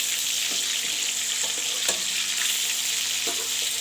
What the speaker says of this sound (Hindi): हम इसको हल्का फ्राई कर लेंगे